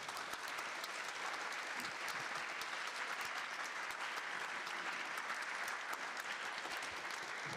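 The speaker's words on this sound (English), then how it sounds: "We'll give a chance to applaud all of them right now if you would like." An audience at a Santa Barbara District 1 city council candidate forum claps for the candidates, steady dense applause from a crowd that holds at an even level throughout, heard from a moderate distance.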